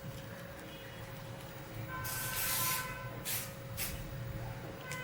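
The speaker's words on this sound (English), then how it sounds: "I'll just go off camera and spray them once or twice" Two or three short hissing bursts of an aerosol can of art fixative, a longer spray followed by quicker puffs, over a faint steady background hum.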